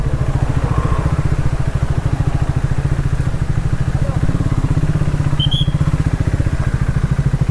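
A motorcycle engine runs steadily in a rapid, even throb, close and loud throughout, while the rider searches for a parking spot near a beach in North Goa, with voices faintly present.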